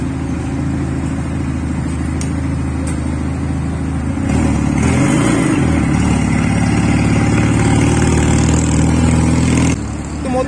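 A CMC Bomos 350 motorcycle engine runs steadily up close, with a sustained low rumble that swells as it revs near the middle before settling, heard at a seaside gathering of riders.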